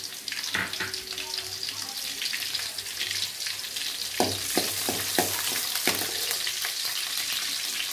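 Garlic and green chillies frying in hot oil for an egg curry, a loud, close, continuous crackling sizzle with a run of sharp stirring knocks in the second half.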